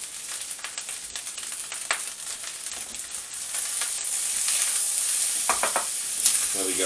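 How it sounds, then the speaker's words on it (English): Fried rice with beef, pork steak, sausage and vegetables sizzles steadily in a hot pan as it is stirred through soy chow mein sauce, with scraping clinks of the utensil, close and continuous. "I'm just going to constantly mix this through, trying to get everything coated in the soy chow mein sauce."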